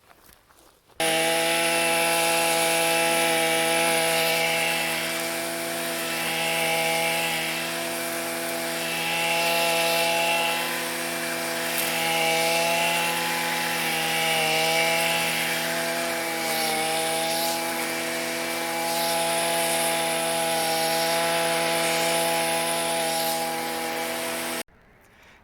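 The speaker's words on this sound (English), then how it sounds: "wanted to see me use the weed whacker last video" A gas-powered string trimmer runs steadily for about 24 seconds outdoors, a loud engine drone with strong harmonic whine that rises and dips slightly as the throttle and cutting load change, starting and stopping abruptly.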